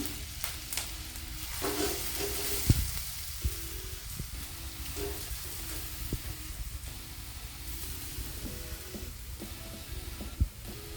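Grated carrots soften in hot ghee in a pan over low heat for carrot halwa, giving a steady, low sizzle with occasional soft scrapes and clicks of a spoon stirring throughout.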